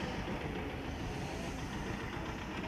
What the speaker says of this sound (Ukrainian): Сьогодні трактором громадить траву.